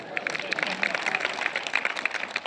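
An audience claps at a Hindi comedy poetry recital, giving dense steady applause that runs through the whole clip. Voices are faintly mixed into it.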